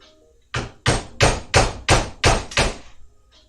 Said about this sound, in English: A little bit of extra torque from the hammer.